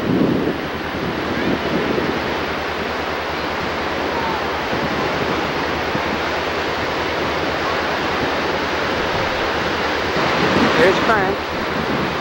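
Ocean surf on a Florida beach, a steady broadband wash of waves with wind buffeting the microphone throughout, no talking heard.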